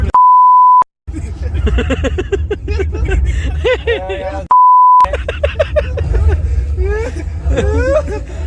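Two sharp, steady censor beeps, each under a second, are edited into casual talk among friends on a night trip to Lonavala; voices and laughter fill the gaps between the tones.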